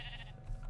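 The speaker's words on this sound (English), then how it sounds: "There's a sheep." Sheep bleat in the Minecraft video game, a short game-audio cry carrying over a steady low hum, with no voices in the moment.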